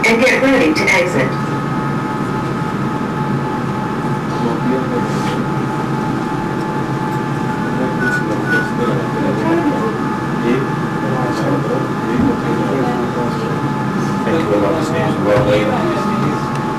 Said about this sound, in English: The train will soon come to a stop.